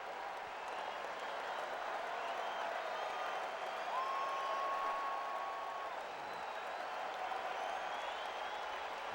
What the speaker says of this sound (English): Again, the big crowd at Fenway tries to help Lester out here.